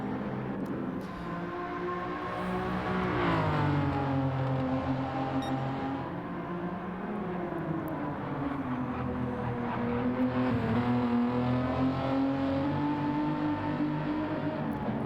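Mustang race car in Gran Turismo 7 at Brands Hatch Indy, a steady engine drone rising and falling in pitch as it accelerates and shifts, fairly quiet, with no talk.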